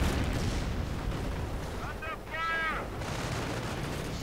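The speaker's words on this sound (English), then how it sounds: "Artillery going in" Artillery fire in a World War II strategy game, a continuous rumbling barrage of blasts under a dense battle din, with a brief whistling, warbling shell sound in the middle and a voice talking over it.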